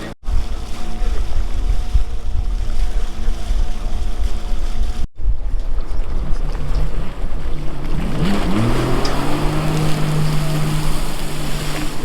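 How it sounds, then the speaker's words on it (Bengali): A tourist boat ride on Pykara Lake in Ooty, with loud, close wind buffeting and an engine drone throughout, a brief cut midway, then rising motor tones later, no talk. "আর এই বোটটা আমাদের ঘোরাবে 20 মিনিট মতো"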